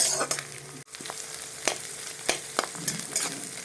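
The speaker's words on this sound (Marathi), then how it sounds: "व्यवस्थित हलवू आणि ह्याला मस्त असं तळून घेऊ" Vegetables for a veg pulao, along with precooked rice, fry in a pan with a steady sizzle while a spoon stirs and scrapes them in repeated close strokes. A brief quiet gap comes near the start and no one speaks.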